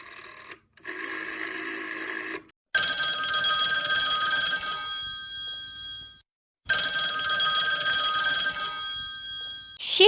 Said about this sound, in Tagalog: Then the phone rings.